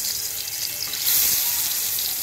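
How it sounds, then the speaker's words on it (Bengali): Small koi fish frying in hot oil, a steady close sizzle and hiss that swells slightly partway through, with no talk. "এখন আমি মাছগুলো ভেজে নেব।"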